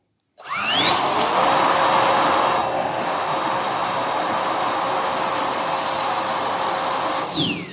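An ONEVAN cordless leaf blower on its second speed spins up with a rising whine, then holds a loud, steady roaring rush of air up close before winding down at the end.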